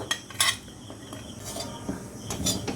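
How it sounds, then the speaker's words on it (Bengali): Coconut powder tipped into a metal wok and stirred for a sweet semolina puli payesh filling, with bright scraping and clinking of the utensil against the pan in several short bursts over a low background hiss. "কড়াইয়ের মধ্যে দিয়ে দিচ্ছে নারকেল গুঁড়ো"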